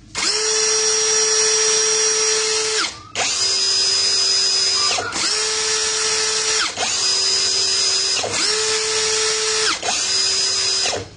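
A Tengmor 16V brushless impact drill runs loud and close in several long high-pitched whining bursts of about two seconds each, with brief pauses where the motor spins down and revs back up.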